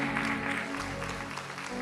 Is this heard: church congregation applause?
yes